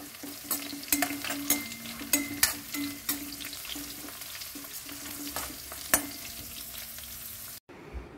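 Dried red chilies and curry leaves crackle and sizzle in hot oil for a nutmeg pickle, with sharp pops and stirring clicks over a steady hiss that cuts off abruptly near the end.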